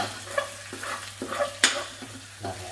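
Curry paste is stir-fried in oil in a pan for a spicy field-rat and sour bamboo shoot dish, giving soft sizzling with repeated scraping strokes of the spatula at close range.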